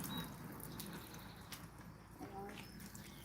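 Water drains from a Zeny mini portable washing machine spin dryer, a soft steady trickle and splash with faint drips, under light background noise.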